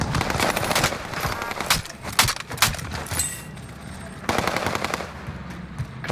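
Rapid automatic gunfire from a weapon in the video game Call of Duty: Modern Warfare, several sharp bursts of shots clustered together, loud and close, with no talk over them.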